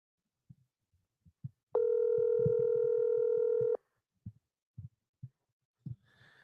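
A steady electronic WhatsApp call ringing tone sounds for about two seconds, with soft knocks and handling noises before and after it.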